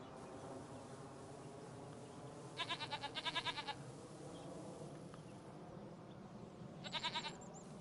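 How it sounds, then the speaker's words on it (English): Goats in the Farming Simulator 25 video game let out short, tremulous bleats in two bursts, one double call and a later single call, over a steady low ambient background hum. "The goats love that area."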